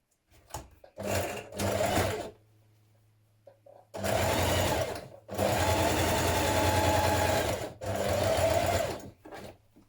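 A sewing machine stitches a dart in a hoodie in several close, loud bursts of a few seconds each, separated by short quiet gaps, as the stitching starts and stops.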